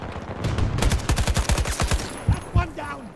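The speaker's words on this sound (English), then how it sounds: "You can pretty much tap fire people to death at extreme ranges." Rapid AK rifle tap-fire in Battlefield 2042, a run of sharp, evenly spaced shots close up over a steady game background, with a couple of heavier bangs near the end.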